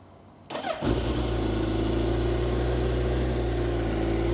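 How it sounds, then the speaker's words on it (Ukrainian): A 2022 Suzuki GSX1300R Hayabusa motorcycle cranks briefly with the starter, catches and fires up, then settles into a loud, steady idle nearby, with no talk. "Запустимо двигун."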